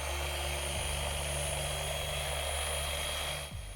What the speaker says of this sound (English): I'm polishing this on the outside